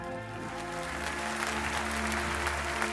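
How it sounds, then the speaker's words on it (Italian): Audience applause at an Italian comedy show, steady dense clapping filling the whole stretch with music-like sustained tones underneath, moderately loud and continuous. "È loro questo applauso."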